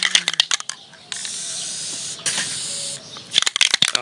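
Short bursts of aerosol spray hiss from a paint can, a couple of sustained sprays between clicky rattles of the can.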